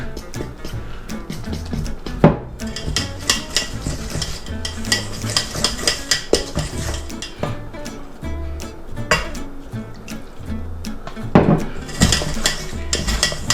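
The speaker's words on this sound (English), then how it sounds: "Now we'll just stir in the milk." A spoon stirring milk into dumpling dough with butter in a bowl, giving steady rhythmic scraping and clinking against the sides, close and busy, with a few sharper knocks.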